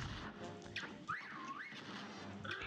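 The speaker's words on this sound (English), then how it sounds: "He's whistling." An enemy in the video game Cuphead whistles a short rising and falling tune over busy game music and effects, moderately clear in the mix.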